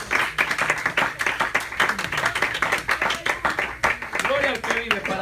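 A church congregation gives rhythmic clapping during a Spanish-language sermon, fairly loud and close, with a voice speaking over the claps.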